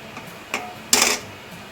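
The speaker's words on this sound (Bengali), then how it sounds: "আমি এর মধ্যে একটা এরকম একটা স্ট্যান্ড দিয়ে দিচ্ছি" A metal stand set into a pot of water heating for steaming hilsa, giving a light clink followed by a brighter metallic clatter, close and brief against a quiet kitchen.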